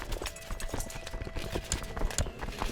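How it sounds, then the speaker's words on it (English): Horse hooves clip-clop in a steady rhythmic trot from the video game Crusader Kings II, a bit faint against a light background wash. "saddle my horse."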